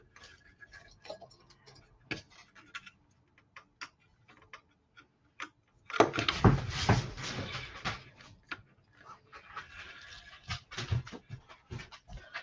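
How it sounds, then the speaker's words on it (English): A dog pants rapidly and audibly nearby, rhythmic breathy huffs that rise louder midway, alongside scattered ticking and clicking sounds. "That's my dog if you hear the noises,"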